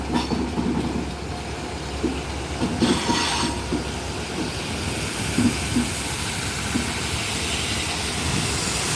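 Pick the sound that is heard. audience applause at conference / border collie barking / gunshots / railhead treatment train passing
railhead treatment train passing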